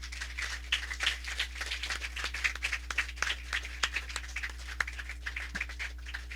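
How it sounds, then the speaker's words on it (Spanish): A church congregation claps together during a sermon, a moderately distant, rhythmic patter of many hands over a steady low hum. "Denle un aplauso a Jesucristo"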